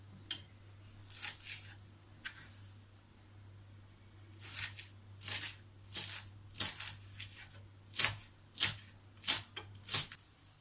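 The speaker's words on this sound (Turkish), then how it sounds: "Biraz da dereotu doğrayacağım." A knife chops dill on a cutting board in short bursts, starting sparse and then settling into a steady, close rhythm of quick thuds.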